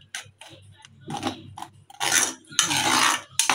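A spoon scrapes and clatters in a pan while pav bhaji paste with onion and garlic paste is stirred, giving irregular metallic knocks and scraping bursts in a kitchen.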